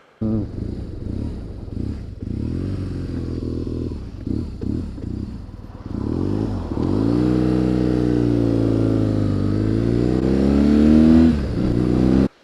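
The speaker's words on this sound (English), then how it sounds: "This motorcycle is only firing on one cylinder when it starts" A BMW motorcycle engine firing on only one cylinder, running rough and uneven, loud and close, with sputtering, stumbling beats, then a steadier, harsher revving stretch before cutting off.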